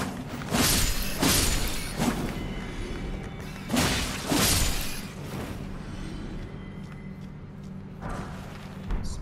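Breakable object smashed in Elden Ring, heard as several crunching, shattering impacts in quick bursts over a steady game ambience, with no talk.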